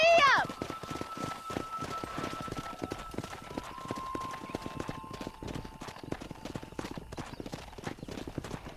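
Rapid clip-clop of a galloping horse's hooves in Red Dead Redemption, steady and close throughout, with a brief whinny at the start and game music and voices running underneath.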